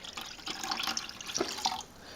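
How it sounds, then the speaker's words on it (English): Coffee is poured into beer, a steady close trickle and splash of liquid running along the side of a vessel, with no talk. "I'm going to pour in 10 ounces of coffee"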